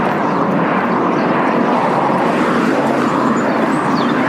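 Airliner on final approach to Faro airport, a steady loud broadband engine roar sustained throughout with no talk.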